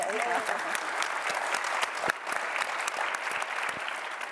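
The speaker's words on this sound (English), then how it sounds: "You get a round of applause for our family docs here and there." An audience at a primary care discussion event gives family doctors a round of applause, dense clapping from a room full of people that holds steady for a few seconds.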